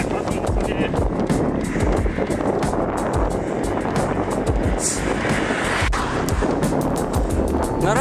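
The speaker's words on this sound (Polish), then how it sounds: "Strasznie mocny wiatr" Strong wind roars steadily across an outdoor microphone during a running training session, a dense low rumble and buffeting that persists throughout without pause.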